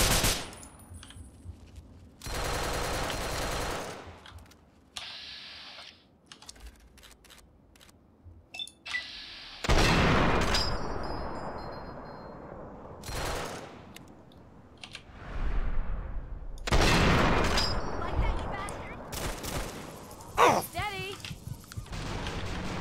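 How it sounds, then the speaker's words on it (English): A big gun fires in Fallout 3, a modded playthrough, as loud, sharp bursts of gunfire that come repeatedly with short gaps, some rattling like rapid automatic fire. "that was a big gun"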